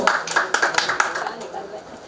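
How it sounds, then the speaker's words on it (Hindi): Applause from an audience at an award event in Palghar: a burst of clapping that swells and then fades over about two seconds, close and fairly loud. "जोरदार तालियों से स्वागत हो।"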